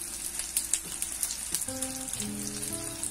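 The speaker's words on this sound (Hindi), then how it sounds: "अब इसमें हमारी मिर्च ये भून चुकी है" Green chillies frying in a pan crackle and pop in quick, close bursts, with music coming in partway through.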